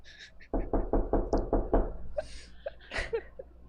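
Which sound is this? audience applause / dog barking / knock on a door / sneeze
knock on a door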